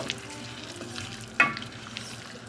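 Tomatoes, Calabrian chilies and a mix of rice wine and red wine vinegar stirred in a pan, giving a soft continuous sizzle with light scraping and one sharper clink of the spoon, close and fairly quiet.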